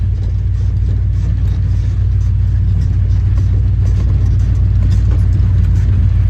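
Ford Bronco driving along a muddy road, a steady loud low engine rumble with road and tire noise, continuous and close without talk.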